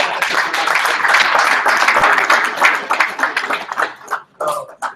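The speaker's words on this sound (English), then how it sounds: "It's a round of applause for me" A round of applause from attendees at a business meeting, steady dense clapping that thins out toward the end with voices breaking through.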